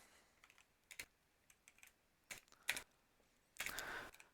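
Computer keyboard typing during web template coding: scattered single keystrokes and short clicking bursts, close and fairly quiet, ending in a denser run of rapid keys, with no voices.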